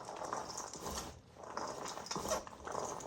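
A meat grinder churns soaked beans mixed with vegetables and herbs, producing faint, continuous mechanical grinding and ratcheting that is steady with slight dips, heard alone without speech.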